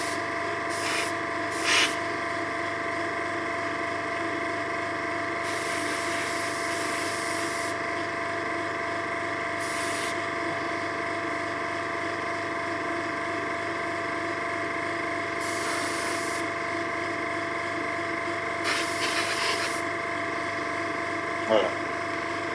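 Tamiya X-22 clear coat sprayed from a can or airbrush in short hissing bursts of a few seconds each, set over a steady mechanical hum, with brief pauses between passes.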